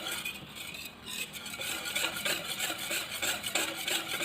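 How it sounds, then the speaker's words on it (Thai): Flour batter mixed with limewater stirred in a bowl for Thai pandan lod chong, a continuous close scraping and swishing with faint rhythmic clinks, no voices. "ก็คนให้แป้งละลายดีเลยนะคะ"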